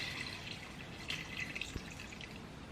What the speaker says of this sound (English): I'm going to add a little bit more water just to reasonably cover it